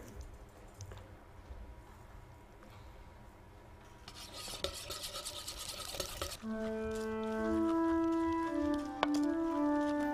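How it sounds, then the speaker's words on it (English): A comically large whisk rasps and scrapes in a steady rubbing rhythm, growing louder midway, before bright sustained tones rise alone over the final seconds. "I will show you whisking with comically large whisk."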